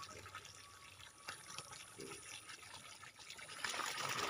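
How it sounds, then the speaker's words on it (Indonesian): Irrigation water flows steadily through a channel beside fertile rice paddies, a continuous moderate rushing and splashing wash outdoors that swells louder near the end, with no talking. "Dan airnya juga ini gede ya teman-teman."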